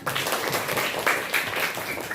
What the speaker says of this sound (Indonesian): tepuk tangan untuk Urban